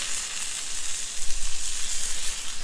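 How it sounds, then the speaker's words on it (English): Bacon sizzling on a Blackstone griddle, a dense steady hiss and crackle of frying fat close by, continuous throughout with no voices. "Put a little bacon down. We got the bacon on. That bacon's cooking really fast."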